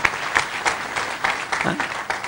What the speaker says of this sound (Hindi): एक बार जोरदार तालियां हो जाएं सबकी ओर से